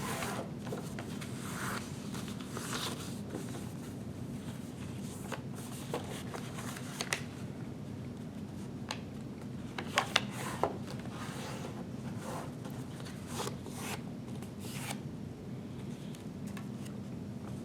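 Paper folded in half into rectangles for upcycled origami party containers, with soft rustles, crinkles and a few sharper creasing taps, faint and close.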